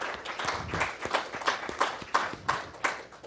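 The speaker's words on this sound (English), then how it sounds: "So give him a round of applause." Applause at a school board meeting honoring a state champion runner, a modest burst of clapping from a small audience with uneven, fairly distinct claps rising and falling in a room.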